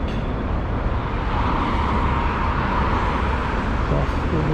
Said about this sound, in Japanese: バスの音だったっけ